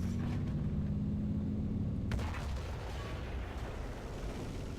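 An MBT-70 tank fires its cannon in the War Thunder video game: a single heavy boom over a steady engine rumble, followed by a fading rumble.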